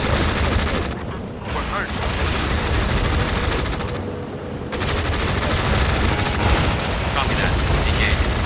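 Artillery fire and explosions from the Tom Clancy's EndWar video game form a dense, continuous roar of booms and gunfire, with brief dips, while radio-style voices speak over the battle.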